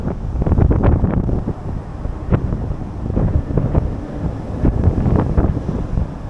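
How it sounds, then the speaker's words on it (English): Breezy wind on a rainy day under a bridge in Japan, buffeting the microphone in loud, continuous gusty rumbles with no talk. "It is getting even more breezy though."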